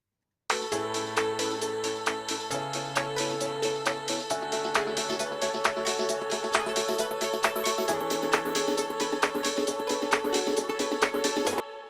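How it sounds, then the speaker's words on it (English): Electronic music track in Ableton Live 12 with a vocal part sidechain-compressed to the kick drum, its volume ducking on every beat; steady pulsing rhythm with bright percussion and sustained tones throughout, no talking. "the volume of this track is ducking every time the kick comes in"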